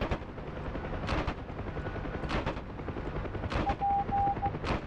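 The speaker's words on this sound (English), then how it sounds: "Oh, come on, it's a machine gun." Machine gun fire from a UH-1 helicopter door gun in the DCS flight sim, loud and close in several sustained bursts over a steady rotor and engine drone.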